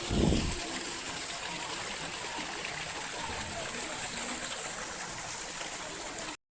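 A small fountain in a botanic garden trickles and splashes in a soft, continuous stream, with a brief low thump at the start.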